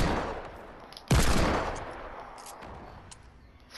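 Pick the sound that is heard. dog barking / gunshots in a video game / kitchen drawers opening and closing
gunshots in a video game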